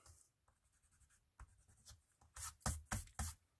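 Quiet, close rubbing of an eraser removing pencil marks from card, with soft scratchy strokes that grow into a few quick, louder scrubbing bursts toward the end.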